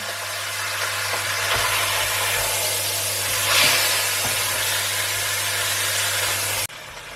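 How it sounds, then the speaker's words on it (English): Lamb shanks browning in a hot pan give a broad, steady hiss of searing meat with a faint low hum beneath. It swells briefly midway and then cuts off abruptly near the end. No one speaks. "So we'll be browning the meat on all sides."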